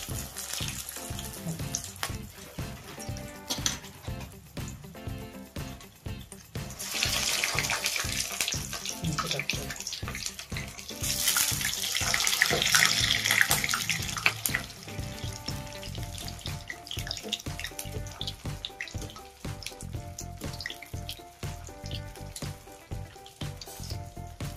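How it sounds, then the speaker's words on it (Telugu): Aloo tikki patties frying in hot oil give a continuous crackling sizzle that swells louder in the middle, bright and close, with no talking over it. "మనం వేయించుకుందామండి."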